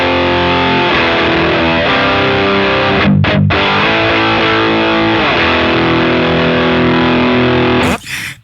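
Loud distorted electric guitar through a Dr. Z Maz18 Jr amp simulation with overdrive pedals, sustained chords ringing with rich harmonics, a brief choked gap midway, then the chord cut off before a final strum.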